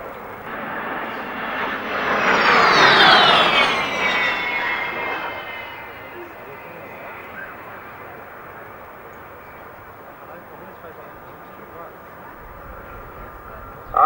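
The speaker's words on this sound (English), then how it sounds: "The new generation 50 passenger jet airliner." A 50-passenger RJ jet airliner passing at the Farnborough Air Show, its engine whine sweeping downward in pitch as it roars close by, then fading into a long distant rumble.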